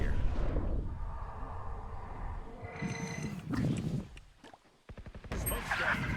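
In Valorant, a grenade goes off with a deep, rumbling blast amid game effects and gunfire-like bursts, fairly loud and close, with voices talking over the action.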